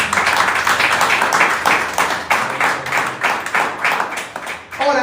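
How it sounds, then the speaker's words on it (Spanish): A congregation at a church service claps hard together, a loud burst of fairly rhythmic, pulsing clapping that carries through with a short lull near the end. "Denle un fuerte aplauso al Señor."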